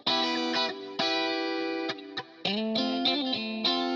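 Electric guitar run through a P&M V.I.P. amp simulator plug-in, giving a scooped, saturated, old-school Marshall-like distorted tone; several sustained chords and short picked notes with brief gaps, loud and up close.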